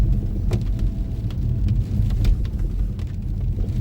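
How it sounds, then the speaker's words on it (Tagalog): Steady heavy rain on a motorway heard from inside a moving car, a dense continuous hiss with low road rumble and occasional sharp drop taps, no voices. "Ulan sa motorway."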